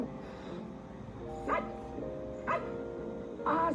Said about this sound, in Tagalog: Kay, ba't kakahol ng kahol? Anong kinakahulan mo?